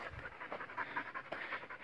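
Hunting dogs pant rapidly and rhythmically close by, a quiet run of quick breaths with no one talking.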